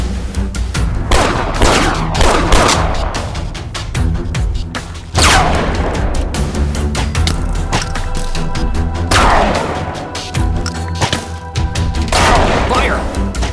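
Rapid, loud gunfire rattles almost nonstop in the Minecraft video game while shooting at attacking pillagers, dense repeated bangs with crunching, splintering impacts and brief lulls, and a voice calls out at times.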